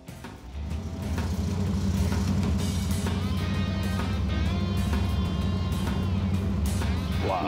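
A restored 1951 Studebaker pickup truck drives along with a low, steady engine drone that swells in during the first second, then holds smooth and even.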